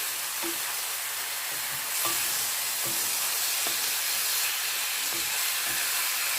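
Thinly sliced chicken fries in a pan with garlic sauce, giving a steady loud sizzle and hiss. Light, regular scrapes of stirring run through it with no talking.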